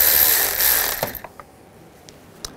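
A ratchet socket wrench with a 10 mm socket loosens a worm clamp on a 2004-2009 Toyota Prius, a loud initial whir followed by a few quick, spaced metallic clicks.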